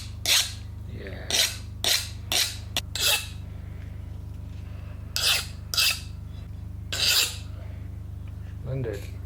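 A steel file rasps across a hardened knife blade made from scrap metal, in a series of short, separate strokes with pauses between them, close and fairly clear.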